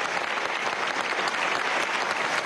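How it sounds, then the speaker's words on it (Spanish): A crowd at an Afro-descendant leaders' summit in Harlem claps steadily, a dense, even wash of applause that holds at the same level from start to finish. "Un gran aplauso."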